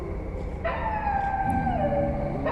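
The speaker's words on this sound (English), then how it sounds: "another beagle, Hank the Hunk, started howling about danger." A beagle howls as an audio drama effect at the south side of a camp, a sustained wavering cry that rises, bends and falls over continuous background rumble, loud and close.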